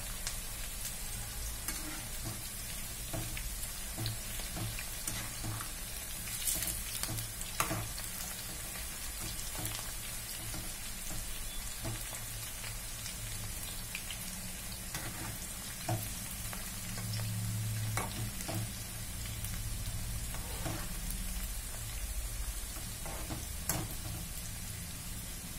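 Wheat flour pakodas deep-fry in hot oil with a steady, dense sizzle and crackle, heard close up throughout with occasional louder pops and no voices.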